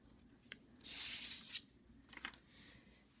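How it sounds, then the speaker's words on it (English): A pen draws a circle on paper with a circle-drawing tool for Zentangle-style art, giving a few faint, soft scratchy strokes in short bursts over a quiet background. "I'm going to just draw a circle like this"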